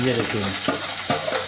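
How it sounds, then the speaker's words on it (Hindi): Gram flour (besan) frying lightly in a home kitchen pan, a steady soft sizzle with a couple of stirring scrapes, heard up close beneath a brief spoken remark. "अब उसको हल्का हल्का जो है फ्राई किया जाएगा, डीप फ्राई नहीं किया जाएगा।"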